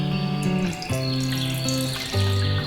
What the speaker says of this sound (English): Into the base of our filter, let's pour half a cup of water.